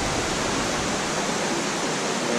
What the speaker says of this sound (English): Okay, here we are at the waterfall, looking good.